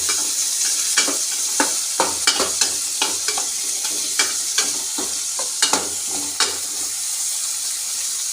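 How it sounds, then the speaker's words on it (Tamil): Onions and tomatoes sautéing for a dry fish curry, a steady sizzle punctuated by a regular run of spatula scrapes and taps against the pan, close and clear with no talking. "நல்லா நல்லா வதங்கி வரட்டும்."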